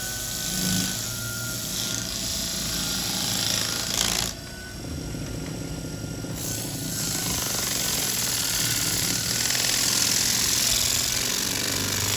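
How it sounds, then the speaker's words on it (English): Sandpaper is pressed against a cedar wood bowl spinning on a lathe, making a loud, steady rough roar with a droning motor hum that dips briefly in the middle and then carries on. "we're going to sand up through the grits, get it mostly finished up"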